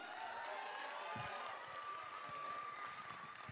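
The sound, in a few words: audience applauding for the performer Moussa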